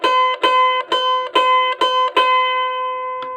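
A kecapi, a Sundanese plucked zither, sounding its fourth string before tuning: about six bright, ringing plucks in an uneven rhythm, each with a clear sustained tone, close and fairly loud, with no talking.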